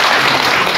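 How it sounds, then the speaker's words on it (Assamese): Dense, steady applause from an audience fills the whole brief moment at an Assamese gathering, loud and close, greeting a boy's correct answer without any voice on top. "পুনৰবাৰ সকলো ইয়াতে জোৰকৈ হাত চাপৰি দিবলৈকে"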